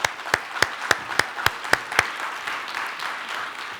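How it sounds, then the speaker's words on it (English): Audience applause for panelists walking onto the stage at a keynote panel on cross-border payments, opening with a run of sharp, evenly spaced claps that fade into a softer, sustained patter of clapping from the crowd. "Let's give them a warm applause."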